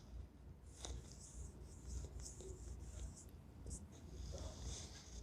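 A pen or marker writes on a surface near at hand, making faint scratchy strokes in short bursts over a low background hum.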